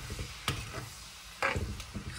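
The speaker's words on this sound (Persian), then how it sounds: "اینو میذاریم که سرخ بشه" Chicken pieces seasoned with pepper fry in a pan for stroganoff, giving a steady close sizzle broken by a few sharp scraping stirs of a utensil against the pan.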